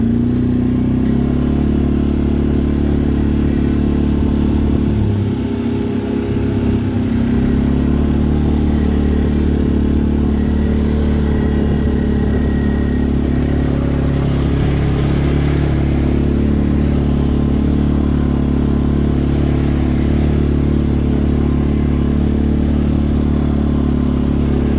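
An off-road machine with a gear linkage that isn't settling fully into low gear drives along a rough trail, its engine droning loud and continuous with slight shifts in pitch throughout.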